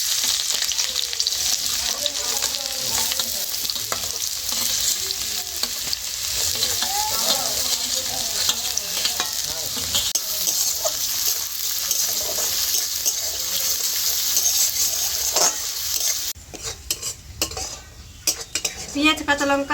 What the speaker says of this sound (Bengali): পেঁয়াজ, কাঁচা লঙ্কা, আদা, রসুন সব কিছু হালকাভাবে একটু ভেজে নিয়েছি